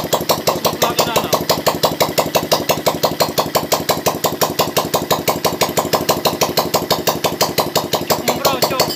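A small engine runs steadily and close by, its rapid regular firing pulses holding an even, buzzing rhythm throughout.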